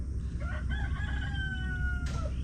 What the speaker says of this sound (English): the rooster does this all day, sometimes in the middle of the night